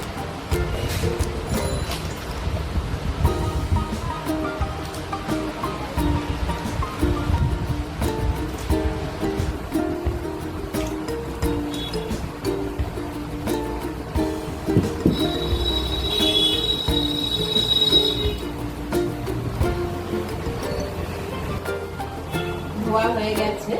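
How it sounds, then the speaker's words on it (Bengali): Cut pieces of sweet potato and pumpkin are washed by hand in water, producing continuous close sloshing and splashing that fills the whole stretch. "রাঙালু আর কুমড়োটা আমি পিস পিস করে কেটে নিয়েছি। এবার ভালো করে জলে ধুয়ে নেব।"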